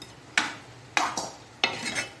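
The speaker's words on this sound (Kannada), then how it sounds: "ನಾನು ಇದಕ್ಕೆ ಇವತ್ತು ಬೆಳ್ಳುಳ್ಳಿಯ ಒಗ್ಗರಣೆಯನ್ನು ಕೊಡ್ತಾ ಇದ್ದೇನೆ ನೋಡಿ" Garlic tempering hits Mangalorean basale sambar in three sharp bursts, each a sudden crackling sizzle that fades quickly, recorded close with no voices.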